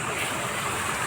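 Water flows steadily at a temple, a continuous broadband rush with no break through the short span.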